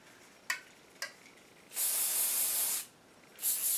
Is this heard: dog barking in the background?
no